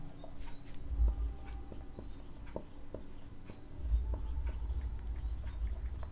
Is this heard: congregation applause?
no